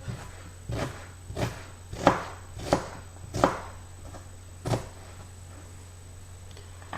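A knife cuts onion into thin strips on a board, about seven separate close chops spaced unevenly, some sharper and louder, over a quiet steady hum with no talk.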